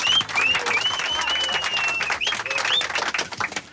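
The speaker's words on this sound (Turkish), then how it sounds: "E tabi bir alkış hak ettin." Applause breaks out for a latecomer arriving at a workplace, steady dense clapping from a small group that carries on for several seconds with brief cheering whistles on top.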